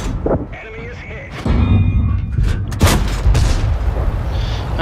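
Heavy tank cannon shots in World of Tanks, a couple of loud booming reports with rumbling tails amid battle noise, with a voice talking over part of it.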